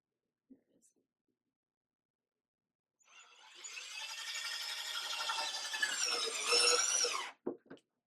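A power drill drives screws into Onduvilla roofing closure caps, a steady whirring buzz lasting about four seconds that rises slightly near the end, then stops with a couple of short clicks and taps afterward.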